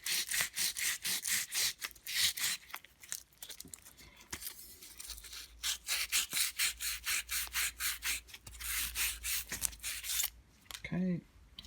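Worn silicon carbide paper polishes the commutator ring of a Bosch Classixx 6 Varioperfect washing machine motor in quick, close, rhythmic rasping strokes, with a short pause midway and a brief squeaky scrape at the end.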